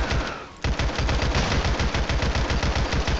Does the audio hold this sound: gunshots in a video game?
yes